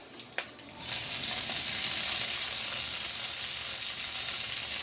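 Greens and green onion stir-frying for shrimp ramen noodles hit the hot pan with a burst at the start, then settle into a loud, steady, even sizzle that holds to the end with no talking.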